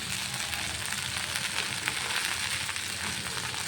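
Brinjal fried rice with masala powder sizzles steadily in a pan as it is fried and stirred, a continuous close, even crackle with faint scraping throughout and no talk.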